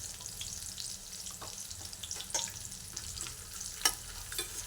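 Beans and carrots sauté in hot oil in a pan with roasted peanuts, a soft steady sizzle with faint stirring scrapes and occasional sharper pops, no talking.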